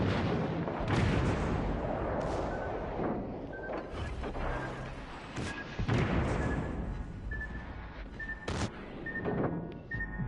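Naval gunfire and explosions in World of Warships, with repeated heavy booms and blasts over a constant loud rumbling battle din, plus sharp whistling shells and metallic crashes throughout; no talking.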